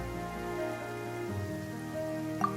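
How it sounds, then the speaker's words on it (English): A steady rain downpour in the video game Genshin Impact hisses continuously under sustained musical tones, with one small bright chime near the end. "Yet today, the downpour arrived on schedule."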